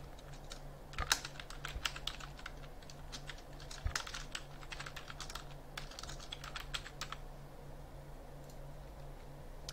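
Computer keyboard keys tapped in quick irregular bursts as a campaign name is entered, light close clicks over a faint steady hum.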